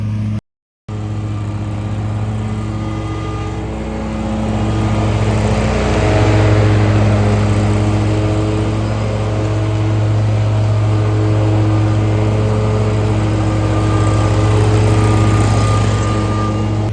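A lawn mower engine runs continuously at a demo test, a loud, close, steady drone that rises slightly partway through and holds.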